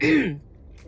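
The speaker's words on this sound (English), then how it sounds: "I had to pause that because I'm coughing too much" A single short, rough cough or throat clear, close and fairly loud, followed by near silence.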